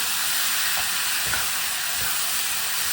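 Big prawns sautéing in a pan for a homemade lunch, a steady, loud, close sizzle with soft stirring scrapes underneath and no talk.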